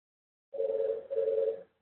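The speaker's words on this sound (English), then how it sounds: "So the phone is ringing" Two long electronic ring bursts from a phone call placed through an IP intercom system, clear and steady with a short gap between them, no talking.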